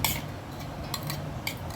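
Soft rattling clinks of soaked mung beans dropped into a mixer-grinder jar, a few quick knocks of utensil on glass against a quiet background.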